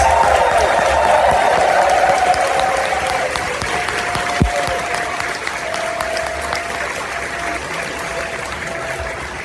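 A large crowd claps loudly and steadily at a convention closing ceremony, with scattered cheers and whistles, the applause slowly easing over several seconds.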